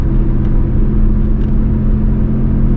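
A Chevrolet Camaro V6 cruising on the road, a loud steady low engine drone and rumble heard from inside the cabin, constant throughout with no voices.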